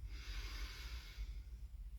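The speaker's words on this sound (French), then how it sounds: "Et donc on inspire." A slow, steady inhalation through the nose and mouth during a breathing exercise, close and soft, with no talking.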